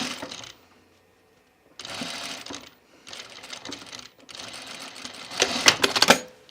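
A sewing machine stitches a dress seam on a Sophie Dress in short runs, several bursts of rapid whirring separated by brief pauses, the final burst the loudest and busiest.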